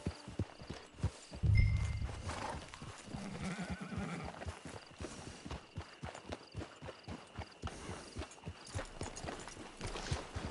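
Horse hooves clip-clop steadily in the video game Sekiro, a rhythmic run of close hoofbeats with a horse whinnying near the start and quiet ambient game sound beneath.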